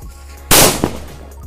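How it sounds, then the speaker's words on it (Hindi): A Golden Garuda firecracker bomb bursts once in a single sharp, loud blast, followed a moment later by a smaller crack and then quiet. "अब जलाते हैं इस वाले गोल्डन गरुड़ बम को,"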